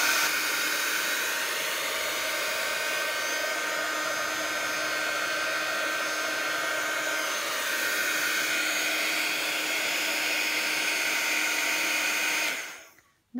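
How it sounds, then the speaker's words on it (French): Heat gun blowing steadily to dry ink on a Christmas card made with a coarse-salt technique, a loud continuous whooshing hiss with a whine that runs unbroken before cutting off sharply at the end. "je vais prendre mon pistolet chauffant"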